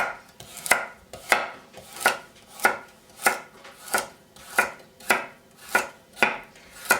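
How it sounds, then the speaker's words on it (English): A kitchen knife slicing food diagonally on a cutting board, ten or so crisp, evenly spaced chops in a steady rhythm, close and clear with nothing else heard. "I love that way of cutting, and it looks so pretty when you cut it in a diagonal like that."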